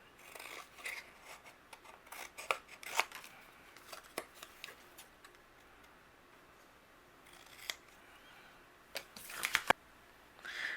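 Scissors trimming white cardstock around a tag during card making, heard as a series of short, crisp snips and paper rustles close by, spaced irregularly over several seconds with quiet gaps between cuts.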